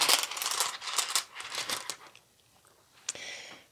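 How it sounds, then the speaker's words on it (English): Rune stones drawn from a bag, clattering and rattling together in a dense cluster of close, bright clicks for about two seconds, then a quieter pause and one more short knock and rustle. "We're going to draw runes first."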